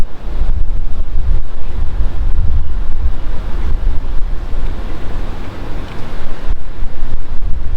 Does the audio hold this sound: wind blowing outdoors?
yes